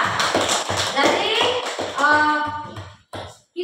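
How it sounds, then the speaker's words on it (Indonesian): A school class claps for a student group, rhythmic tapping claps near and fairly loud, with a voice briefly heard among them. "tepuk tangan untuk kelompok 2"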